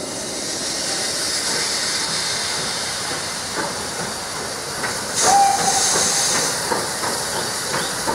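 A steam locomotive puffs out of its shed into the yard for shunting work, giving a steady hissing wash of steam with a brief whistle-like tone near the middle, fairly close and continuous throughout.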